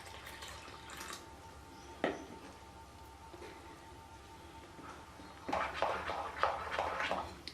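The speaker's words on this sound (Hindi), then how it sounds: "अब मैं थोड़ा थोड़ा पानी डाल के इसको गूंद लूँगी" Small amounts of water are added to flour while egg paratha dough is kneaded by hand. Quiet drips and trickles come first, then a busier stretch of wet splashing and squelching near the end.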